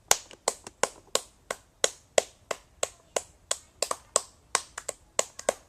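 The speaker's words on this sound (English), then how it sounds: "Let's give a big round of applause for them." A short burst of applause for interview guests, heard as about twenty sharp, separate claps or snaps in a quick, slightly uneven rhythm, close and fairly loud, with no talking.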